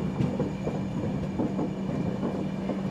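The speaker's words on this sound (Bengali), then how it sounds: "ওই যে লোকাল ট্রেন চলে গেল" A Kharagpur–Howrah local train passes near the Kolaghat bridge, a steady rumbling roll with faint rhythmic clicks of wheels on rail joints, moderately loud and without speech.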